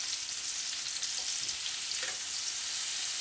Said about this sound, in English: once your butter's nice and hot, we're going to add our onion, our celery, and our green pepper